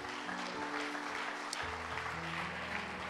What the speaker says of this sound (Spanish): ¿puede usted darle palmas al Señor en este momento?